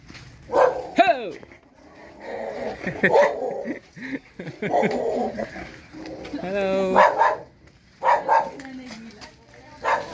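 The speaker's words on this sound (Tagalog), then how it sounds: "May aso." A dog barks in short bursts on a rainy rural road, mixed in with people talking and calling out nearby, the barking intermittent and fairly close.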